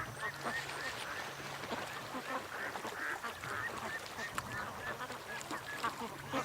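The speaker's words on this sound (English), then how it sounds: "The ducks." Ducks quack repeatedly near a lake, a scattered flock calling in short nasal bursts over light outdoor background noise, with a voice briefly in the mix.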